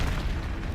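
An Expelliarmus spell blast from Hogwarts Legacy gives a brief, loud, rumbling boom with heavy low end that fills the whole short moment without any talk.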